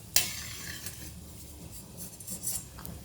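A spoon stirs cashews frying in ghee in a pan, giving a soft steady sizzle with one sharp scrape at the start and light scraping after it, quiet and close, with no talk.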